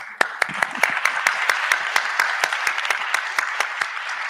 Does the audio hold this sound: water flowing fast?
no